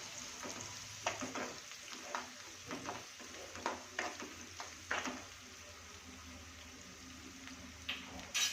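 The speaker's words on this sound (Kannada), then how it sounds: "ಈರುಳ್ಳಿ ಹಾಕ್ಕೊತೀನಿ ಈಗ ಫ್ರೈ ಮಾಡ್ಕೊತೀನಿ" Onions fry in a pan for bisibele bath in a home kitchen. A steady, quiet sizzle runs throughout, broken by intermittent scraping and stirring clatters of a utensil at close range.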